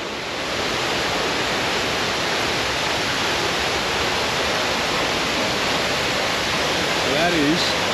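Sailors Falls pours steadily beside a creek crossing on a walking track, a constant broadband rush of falling water heard close and loud for the whole stretch, with no speech over it.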